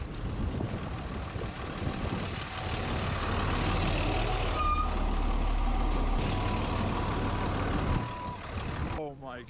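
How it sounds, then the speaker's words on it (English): A truck rumbles loudly past close by on a road, its engine roar building and holding for several seconds amid wind buffeting on the microphone, then easing off as it moves away. "that truck almost ran you over"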